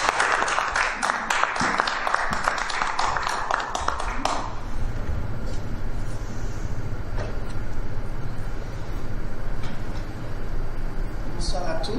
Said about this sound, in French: Merci de l'applaudir pour l'encouragement.